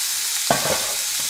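Pork paupiettes browning in a pan with a continuous hiss of frying, broken midway by one brief clack of a utensil against the pan.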